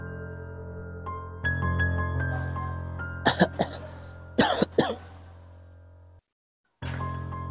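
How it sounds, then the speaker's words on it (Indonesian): Someone coughs in a rural plantation at night, with a pair of sharp coughs followed by a second cluster of harsh coughs, close and loud over a low steady hum that cuts out briefly. "Batuk ya."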